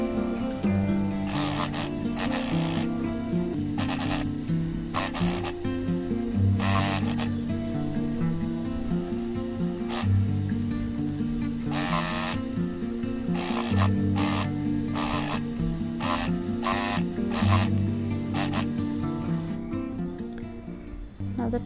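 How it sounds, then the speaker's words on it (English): A sewing machine double stitches the sides of a foldable fabric shopping bag, running in steady bursts of rapid mechanical whirring broken by short pauses, close and alone. "Here we'll be making a double stitch on both sides."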